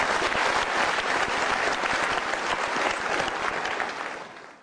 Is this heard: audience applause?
yes